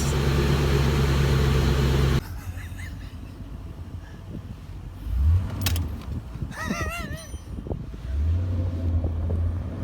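A 1953 Ford F250 truck engine idles loudly, then drops away and comes back as it changes gear, with rising and falling mechanical whine, some wind buffeting and brief excited voices nearby.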